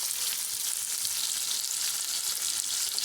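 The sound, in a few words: onions, green chilies and fennel seeds frying in oil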